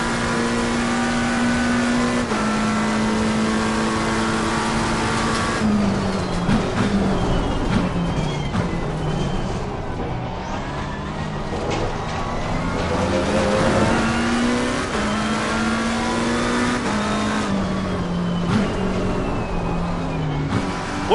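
A McLaren 720S GT race car in the racing game Assetto Corsa Competizione, its engine droning and revving loudly through repeated upshifts and downshifts, with rising and falling pitch and occasional tire squeal, alone without talk.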